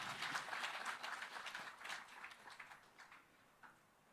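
Applause from a conference audience at a Haryana political conclave, dense clapping at first that gradually thins and fades, with a few last claps near the end.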